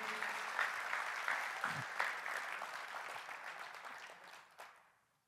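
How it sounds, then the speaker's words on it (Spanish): A church congregation applauds loudly with steady, dense clapping for about four seconds, then the clapping fades out. "así que dar un aplauso fuerte, fuerte, fuerte"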